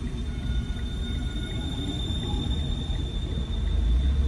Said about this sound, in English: let's wait for this metro rail to pass us